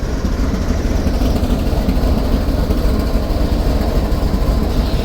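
A train locomotive engine runs with a steady, heavy, low rumbling drone that stays constant and fairly loud throughout, with no voices over it.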